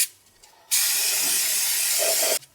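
Brake cleaner sprays from an aerosol can onto a differential cover in one sustained hiss lasting under two seconds, close and loud, preceded by a quiet pause.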